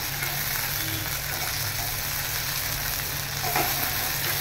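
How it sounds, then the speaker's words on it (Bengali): Ginger, cumin and coriander paste frying in a pan while being stirred, a steady close sizzle with a low hum underneath and a brief scrape near the end. "আদা জিরে আর ধনে একসঙ্গে বাটা আছে, অল্প একটু এটা দিয়ে সামান্য একটু নাড়াচাড়া করলাম"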